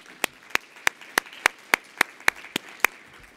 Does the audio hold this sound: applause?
yes